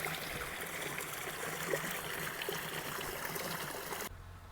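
Irrigation water flows through a farm field, a soft, steady gurgle and trickle heard faintly at a distance that drops away near the end.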